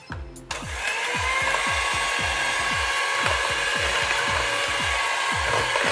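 An electric mixer whirs steadily while mixing mackerel pempek dough, with a rapid rhythmic thumping as the dough turns. It starts after a brief knock and stays loud and close throughout.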